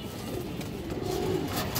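Male pigeon cooing nearby, a soft low murmuring coo rising slightly midway over a faint rustling background, with no talking.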